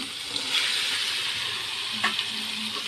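Chicken meat frying in spiced oil over a wood fire, a steady close hiss and sizzle with occasional soft pops and spatters, no voices.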